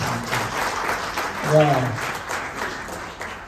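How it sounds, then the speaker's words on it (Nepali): An audience at a Nepali public gathering claps in thanks, a dense patter of applause under and around a voice addressing the crowd, swelling briefly in the middle. "हामी ताली बजाएर धन्यवाद दिन चाहन्छौँ"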